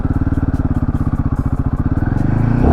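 Royal Enfield Himalayan 450 motorcycle engine cranking and firing up close, a rapid rhythmic chug that rises into a steady idle.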